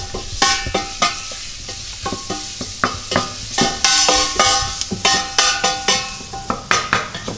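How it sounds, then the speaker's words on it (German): Sausage frying with dried chili sauce in a pan for currywurst, loud close sizzling under a quick rhythm of sharp utensil clacks and scrapes against the pan, no talking. "Das Ganze röste ich jetzt an."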